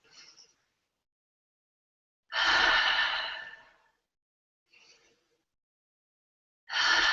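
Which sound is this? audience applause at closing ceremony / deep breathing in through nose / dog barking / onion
deep breathing in through nose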